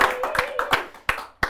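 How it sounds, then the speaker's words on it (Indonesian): A few sharp hand claps in a studio chat show, irregularly spaced and close, mixed with a brief voice in the background. "Luar biasa, tepuk tangan lo, respect"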